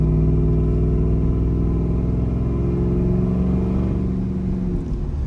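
A 1986 Chevrolet Suburban with a Vortec engine and big tires cruises along a curvy road, its steady mid-pitched engine rumble holding close and loud throughout, with slight shifts in pitch as it eases through the bends.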